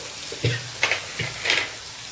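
Ginger paste and spices, including coriander-cumin powder, sautéing with potatoes and tomato for a dry Gujarati potato sabzi; a few quick scraping stirs over a soft, low sizzle, with no talking.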